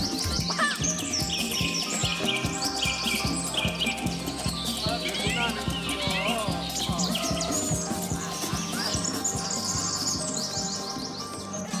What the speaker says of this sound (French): Un oiseau s'invite à la table en toute impunité.